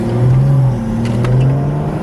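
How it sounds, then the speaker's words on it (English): A BMW fitted with a big turbo revs, its engine note rising and falling with a whirring spool layered over the drone, close and loud for about two seconds. "The turbo's so much louder."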